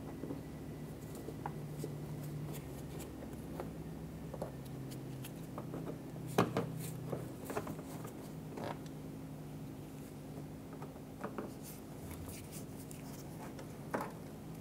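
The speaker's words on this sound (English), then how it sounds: "Using a Phillips head screwdriver, loosen and remove the three screws on the lip of the front bumper." A Phillips screwdriver backs three screws out of the front bumper lip on a 2005-2007 Ford Five Hundred, giving faint creaks and scattered small clicks over a steady low hum, with no talking.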